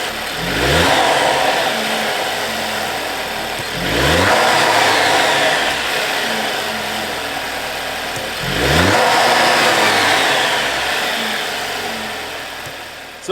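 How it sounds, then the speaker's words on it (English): A 2022 Jeep Wrangler 2.0L turbo engine with its factory diverter valve idles and is revved three times, each blip rising sharply and settling back to a steady idle, heard up close with no talking. "we're gonna start this thing up, give it a couple of revs"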